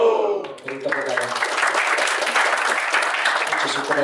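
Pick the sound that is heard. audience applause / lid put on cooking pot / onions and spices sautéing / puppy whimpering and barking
audience applause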